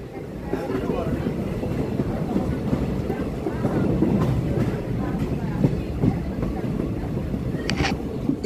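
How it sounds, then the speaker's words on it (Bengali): A passenger train enters Gajji railway station in Udaipur, Gumti district, on the Belonia–Agartala line, with a continuous rolling rumble and clattering wheels, plus a brief high squeal near the end. "উদয়পুরের গজ্জি রেল স্টেশনে প্রবেশ করছে ট্রেন এখন"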